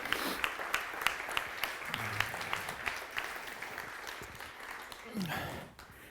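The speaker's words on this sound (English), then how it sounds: "Can we give Ed a round of applause?" A small audience at a photography masterclass claps in a brief, fairly faint round of applause with distinct individual claps, a voice speaking briefly underneath before it fades.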